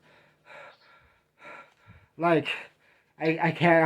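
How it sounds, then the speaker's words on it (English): Laboured, shaky breathing from a person struggling for air: soft uneven breaths, then two louder, strained gasping breaths close by, with no words spoken. "I'm having difficulty breathing"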